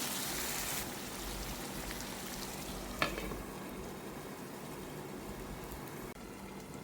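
Masala fish frying in a covered pan, a steady soft sizzle and crackle of hot oil at low level, with a single brief clink near the middle and no speech.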